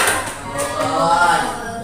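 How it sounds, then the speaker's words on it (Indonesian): Classroom of students clapping hands together in a brief, dense burst of applause, close and fairly loud, with voices mixed in. "Tepuk tangan."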